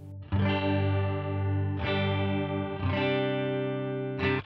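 Electric guitar chords run through a chorus effect in an HX Stomp stereo FX loop ring out in four sustained, shimmering strums, each left to decay before the next, loud and alone.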